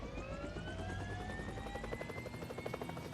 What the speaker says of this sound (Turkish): Aha helikopter de var.